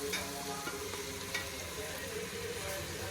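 Tomatoes frying in a pan for chicken biryani, a steady close sizzle with light stirring throughout, no talk.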